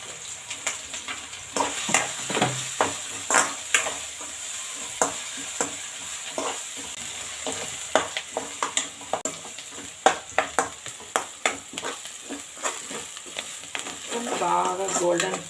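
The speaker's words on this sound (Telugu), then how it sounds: "బాగా గోల్డెన్ బ్రౌన్ కలర్ వచ్చేదాకా బాగా వేపండి." Fish roe fries in a pan with coriander, turmeric, ginger and garlic, a steady crackling sizzle broken by repeated sharp scrapes and clacks of a stirring spoon, close and fairly loud, with no talking.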